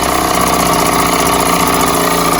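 A Mercury 3.9 outboard kicker engine runs steadily at a fast idle, loud and close, a constant mechanical drone with no speech over it.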